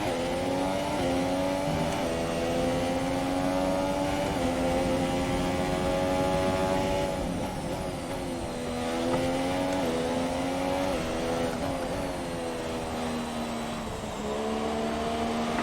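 Loud, unbroken howl of a Formula 1 car's engine in the F1 2017 racing game at the Hungary circuit, its pitch rising through upshifts, falling into corners and surging again on exits, with no voices.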